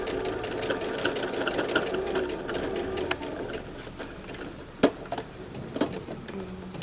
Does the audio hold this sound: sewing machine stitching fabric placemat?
yes